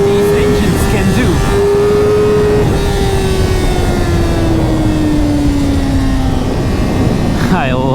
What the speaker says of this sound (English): These engines are amazing. Inline 4 600cc